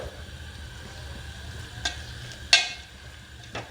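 Minced keema fries softly on the stove under a low sizzle, with a few sharp scrapes from stirring breaking through at intervals.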